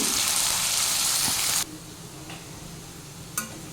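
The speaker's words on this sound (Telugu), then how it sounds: "కట్ చేసుకుని ఆయిల్లోని ఫ్రై చేసుకోవాలి గోల్డెన్ బ్రౌన్ కలర్ వచ్చే వరకు వేయించుకోవాలి" Potato pieces frying in oil for an aloo capsicum kadai curry, a bright steady sizzle that cuts off abruptly partway through, leaving quiet room tone and a brief clatter.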